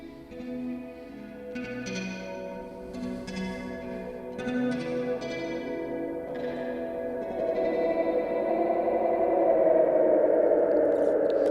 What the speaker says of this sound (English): That ended up building this huge like swell delay that's going on.